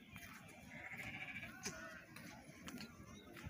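Sheep bleat faintly at a busy outdoor livestock market, a few thin calls rising over a murmur of crowd noise and distant chatter.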